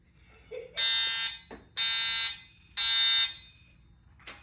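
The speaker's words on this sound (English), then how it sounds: "they came over the mic and said it was a false alarm, but it's still going off." Hotel fire alarm sounding three loud, long electronic tones in a steady repeating pattern, each lasting about half a second with short gaps, indoors and alone without talk.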